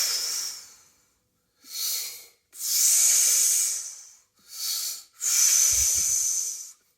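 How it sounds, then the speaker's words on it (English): Relaxed breaths for brass playing using the Reinhardt slump technique: five close, airy breaths, some short and some long, with soft hissing air and pauses between, heard alone. "each time you take a breath, you just let this relax"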